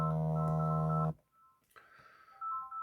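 A telephone rings loudly with a steady electronic tone for about a second and then cuts off, followed by faint scattered tones and room noise during a math lesson.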